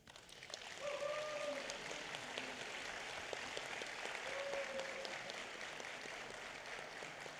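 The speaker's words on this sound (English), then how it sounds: "Please give them a round of applause." Steady applause from an audience fills the room at a county board of supervisors meeting after a brief quiet start, continuing evenly at a moderate distance, with faint tones sounding over it.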